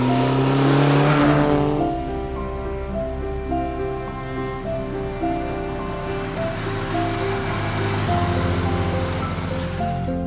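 Classic car accelerating hard up a private drive at the start of a rally trial in Surrey, a loud steady engine drone with rising harmonics up close, no talking.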